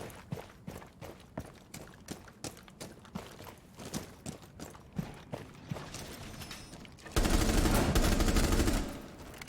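Gunfire in Rainbow Six Siege: a string of sharp, evenly spaced shots and thuds, then a dense burst of rapid automatic fire near the end, with no voices over it.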